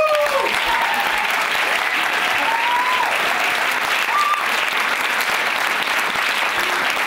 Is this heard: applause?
yes